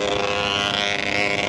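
An Aprilia RS 660 sport motorcycle cruising on a highway ride from Jakarta to Bandung, its engine a loud, steady, high-pitched droning whine mixed with rushing wind, continuous and close throughout.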